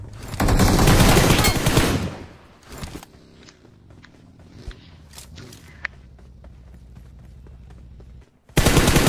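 A video game firefight opens with a loud, dense burst of rapid gunfire, then a single shot, then quieter footsteps and light shuffling, and ends with another sharp burst.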